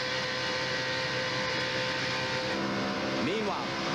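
Engine of a race truck at Daytona heard from onboard during the 2000 Daytona 250, a steady loud drone with a rising whine near the end as it accelerates, under commentary voices.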